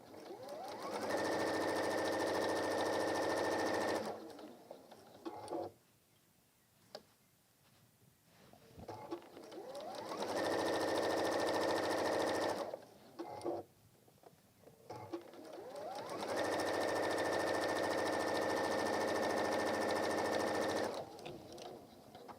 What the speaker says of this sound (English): sew up this top edge here.